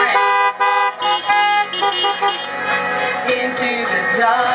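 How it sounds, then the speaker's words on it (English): Car horns honk at a morning drive-in church service, several tones overlapping in sustained and broken blasts that blend with loud music playing throughout. "y'all honk a horn, let us know you're happy to be here this morning."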